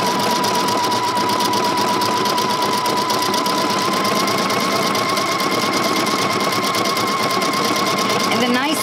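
A sewing machine stitching with a three-hole cording foot, a fast steady mechanical whir with rapid needle clatter throughout, while someone talks over it.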